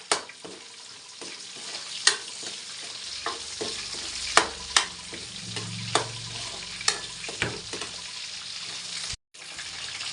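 Onions sauté in a pan for chop suey, a continuous sizzle punctuated by regular sharp spatula knocks and scrapes against the metal, ending in a brief cut-out.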